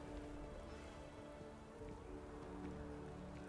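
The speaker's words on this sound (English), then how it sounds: "Is it raining?" Steady rain falls in the game Starfield, a soft, even wash of drops that continues throughout, with no talking.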